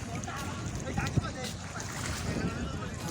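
Wind blows across the Padma riverbank beside a fish wholesale market, a steady broadband rush buffeting the microphone with a brief louder gust partway through.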